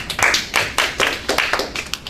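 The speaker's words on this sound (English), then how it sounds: "Clap for him." A small group claps for a student after his project is shown, producing a quick run of sharp, close hand claps with an uneven rhythm that lasts about two seconds.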